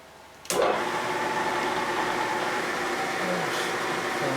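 A machine cutting steel plate at about 70 to 75 RPM starts abruptly and runs as a steady, loud mechanical drone with a grinding hum, for A-frame parts on a 1958 Ford F100.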